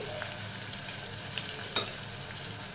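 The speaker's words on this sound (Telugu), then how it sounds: "సో పన్నీర్ అలా ఫ్రై అయిపోతుంది" Paneer pieces fry gently in oil with a soft, even sizzle at low level and one brief clink of a utensil near the end, with no voices.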